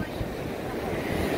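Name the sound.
stormy ocean waves crashing on the shore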